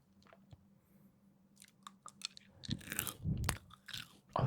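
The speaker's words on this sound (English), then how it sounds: "I always tend to go 2 chewing gums at a time." Close, quiet chewing of two pieces of chewing gum, starting with faint mouth clicks and building into denser crunchy, wet bites and squishes toward the end.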